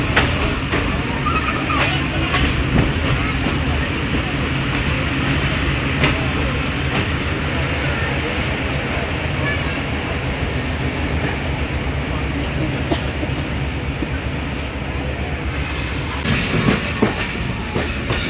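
The Tezgam Express rolls from Karachi toward Lahore, a loud continuous rumble of wheels on track heard from inside the moving train, steady throughout with faint clicks and rattles.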